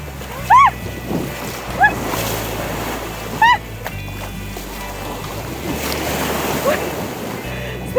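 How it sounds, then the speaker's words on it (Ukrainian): Waves of a stormy Black Sea at Odesa wash steadily against the shore under blustery wind, while a few short, high squealing cries ring out now and then. "Моречко сьогодні хвилюється"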